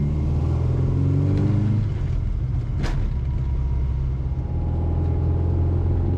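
A restored classic Mini's engine idles steadily while warming up with the choke just taken off, a close, loud, continuous low rumble with a slight rise in revs and one brief sharp noise partway through.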